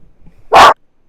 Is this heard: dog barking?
yes